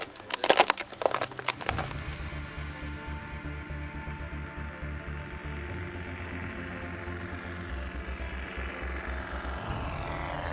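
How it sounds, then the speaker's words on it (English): A small propeller plane takes off from an Alaskan glacier, its engine droning steadily and loud after a brief burst of clattering noise at the start, no talking. "Once Phoegis flew off, we were left alone on the glacier"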